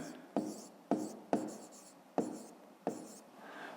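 Pen writing on paper during a fifth-grade math exercise: close, soft scratchy strokes in short bursts, each starting with a tap, about six in a row.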